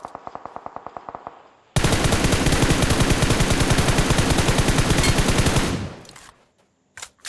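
Video game gunfire in a PUBG match at the Power Plant: a short string of separate shots, then a long, loud, unbroken automatic burst that ends abruptly, followed by a few late shots.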